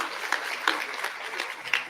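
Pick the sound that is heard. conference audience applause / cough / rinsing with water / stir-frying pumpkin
conference audience applause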